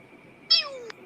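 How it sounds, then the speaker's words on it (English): A single drawn-out house cat meow, close and clear, rising then sliding down in pitch, heard alone over a quiet background hum. "That's the cat."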